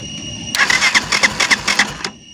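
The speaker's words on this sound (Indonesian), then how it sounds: "Nah itu motornya mulai hidup kan" A motorcycle with a newly wired electric starter cranks over in a rapid run of rhythmic, loud pulses lasting about a second and a half. It then drops back to a quiet hum.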